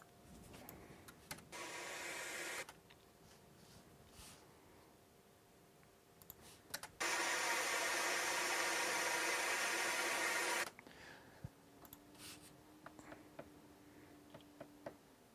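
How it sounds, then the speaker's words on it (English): White noise from a Eurorack modular synthesizer, played in two hissing bursts, a shorter fainter one and then a louder steady block of several seconds, between quiet knob clicks and handling sounds. "this is still just a a white noise thing"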